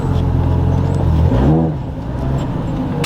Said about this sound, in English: there's a Lamborghini SVJ pulling in behind me